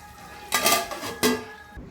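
Cooked food scraped and poured from a pan onto a plate in a home kitchen, two distinct clatters of utensil on metal and crockery about a second apart, close and fairly loud.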